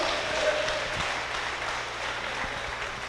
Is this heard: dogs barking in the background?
no